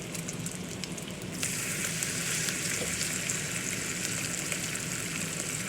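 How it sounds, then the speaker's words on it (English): Bacon crackles and sizzles steadily in a pan, a continuous close frying hiss that grows slightly louder partway through and carries on without talk. "Turning my bacon. We don't want it to burn, but we do want it to get a little bit crispy."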